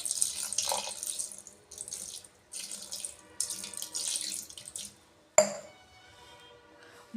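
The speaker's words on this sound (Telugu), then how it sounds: "కొంచెం వాటర్ అయితే వేసాను." Water poured into a pot of raw mutton seasoned with turmeric and salt, before pressure cooking: several splashy pours in short bursts, close and fairly quiet, ending with a sharp clink of a vessel.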